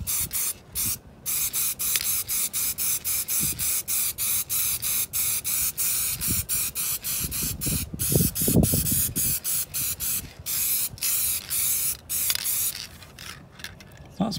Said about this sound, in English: It's not spraying the best, but it'll have to do.